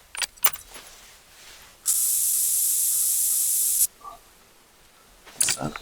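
Scent eliminator sprays from a pressurized can inside a hunting blind in one sustained two-second hiss, close and loud, framed by quiet rustling and small clicks before and after.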